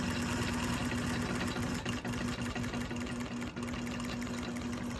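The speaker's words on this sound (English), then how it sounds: "This is just me manually stitching, totally free because my motors are disengaged." Longarm quilting machine stitching by hand-guided movement with its motors disengaged, giving a steady close mechanical whir and hum with a fast continuous needle rhythm throughout.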